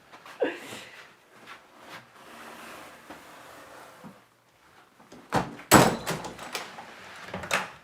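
An old manor house door leading down stone steps to the cellar opens with soft creaks and shuffles, then a loud close knock and thud, heard nearby.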